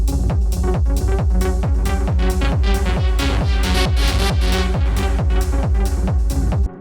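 Hypnotic techno keys synth built in Ableton Drift, a loud repeating pattern of short plucky chord stabs pulsing steadily over a deep driving low end, brightening and filtering open toward the middle before cutting off at the end.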